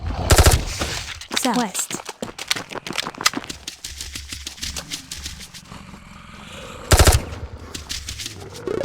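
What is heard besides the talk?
burst gunfire in a video game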